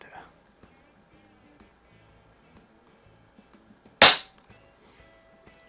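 A single sharp shot from a Haenel 28 air rifle, a short loud crack partway through an otherwise quiet stretch with faint clicks and handling noises around it.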